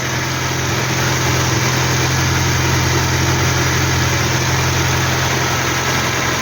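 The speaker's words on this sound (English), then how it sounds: "Yeah, it's ticking away nicely." Steady, close idle of a Hillman Superminx engine after a Powerspark electronic ignition fit, an even low hum with constant loudness and no voices over it.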